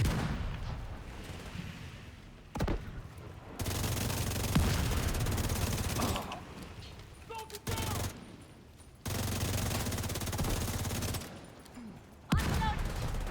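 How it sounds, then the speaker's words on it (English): Mortar shells exploding in a combat video game, bursts of heavy booming fire in long rumbling stretches broken by short pauses, loud and close. "the mortars hit that instead of me"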